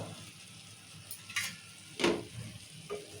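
A spoon stirs a tomato curry seasoned with salt and chili powder in a pan: a soft, steady sizzle underlies three distinct scraping strokes, the middle one loudest.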